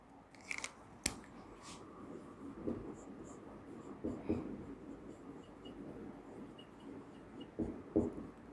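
Pen writing out a maths estimation example on paper, with faint continuous scratching strokes and a few sharper taps, quiet and close, with no talk.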